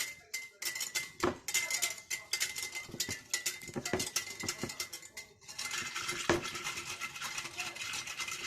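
A spoon stirs sugar into lemon juice with bits of pulp, scraping and clinking against the container in quick repeated strokes, fairly faint and steady with occasional sharper knocks.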